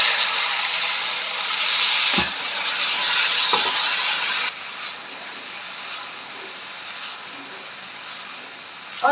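Sugar and water in a pan on low flame give a steady hiss and faint sizzle, with a few soft scrapes of stirring; the bubbling drops quieter midway.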